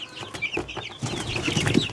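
Young Breeze Bar and Lohmann Brown chicks, a mix of cockerels and hens, cluck and peep continuously in a close, busy flock chorus.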